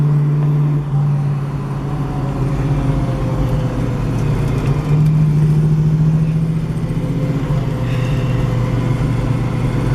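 A 1971 Ford Mustang Mach 1 engine idles with a deep, steady rumble, swelling slightly as it revs, close and continuous.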